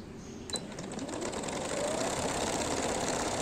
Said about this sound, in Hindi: अब इसको यहाँ से हम मोड़ते हुए सिलाई लगा लेंगे